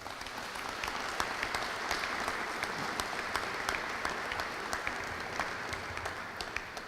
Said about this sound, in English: I think we should give everyone involved a round of applause.